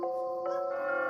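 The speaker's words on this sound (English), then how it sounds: "A distant church bell tolls, its sound warped and eerie." A distant church bell tolls with a warped, eerie tone, its sustained ringing partials humming steadily and a second strike swelling in midway through the short stretch.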